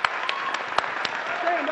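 Brief applause from an audience at a public hearing, scattered claps over a low crowd murmur, close and short.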